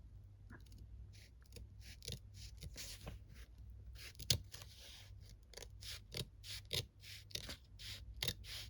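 Scissors cutting through paper for a junk-journal envelope, heard up close as a run of quick, crisp snips and slicing strokes in an uneven rhythm, with no talking.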